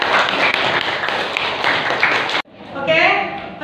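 A classroom of students claps for a classmate, a dense burst of hand applause that stops abruptly after a couple of seconds, followed by a brief voice.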